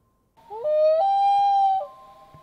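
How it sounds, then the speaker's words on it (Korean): A strange bird cry rings through mountains, a loud, sustained, wavering tonal wail with rich harmonics lasting over a second, sliding slightly in pitch before fading out, alone without any talk. "기묘한 새의 울음소리가 산속에 메아리 쳤다"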